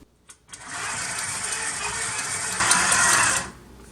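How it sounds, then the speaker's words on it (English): Stand mixer kneading bread dough, a steady mechanical whir that starts after a couple of faint knocks, holds evenly, grows briefly louder near the end, then cuts off. "I'm going to go ahead and turn on the mixer, and I'm going to let the mixer knead the bread for about 10 minutes"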